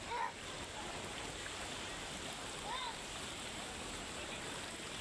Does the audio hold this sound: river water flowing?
yes